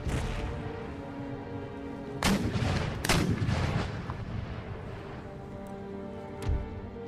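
Cannon fire from 12-pounder guns in Empire: Total War, several heavy booms at irregular intervals over a steady rumbling battlefield din, with no voices.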